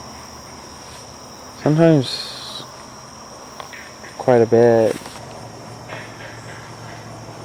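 Frogs croak at night outdoors in a steady, moderately loud chorus that fills the background, while people talk over it.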